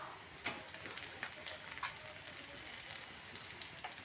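Onions browning in hot oil sizzle steadily as green chili paste goes into the pan, with a few sharper spits and pops rising above the low, even frying hiss.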